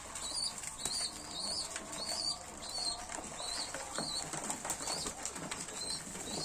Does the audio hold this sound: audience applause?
no